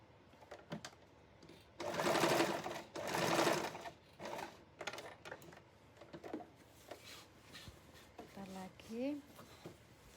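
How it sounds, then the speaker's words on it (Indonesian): A sewing machine stitches elastic onto a king-size bed sheet, running in two loud whirring bursts and then shorter stop-start runs, with fabric rustling and someone talking over it. "kita akan menjahit di sisi atas"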